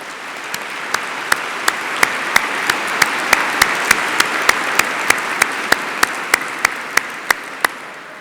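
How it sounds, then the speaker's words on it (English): Regularly spaced sharp claps ring out over a steady broad wash of sound at a regional program event honoring its sponsors, even and fairly loud, with no talking on top. "Now let's give a round of applause to all of our sponsors."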